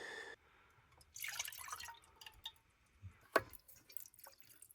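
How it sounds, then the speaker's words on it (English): Liquid drips from a strainer into a container, scattered irregular drips and small splashes, faint and close, with quiet handling sounds and no talk. "Wait for that to drip a bit."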